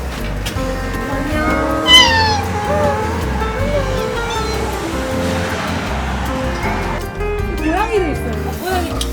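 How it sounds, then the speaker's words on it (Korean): Several cats meow repeatedly at close range over a steady background rumble, with people talking at times. "고양이 친구들이 있구나."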